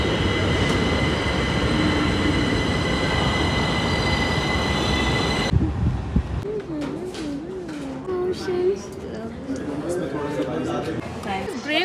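A metro train runs on rails with a steady rumbling roar and high tonal whine, then shifts to wheel squeal and clatter while people talk nearby.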